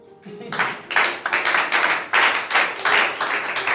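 A church congregation bursts into applause to acclaim Jesus, a dense wave of hand clapping that swells in a few pulses, fairly loud and close, with no speech over it.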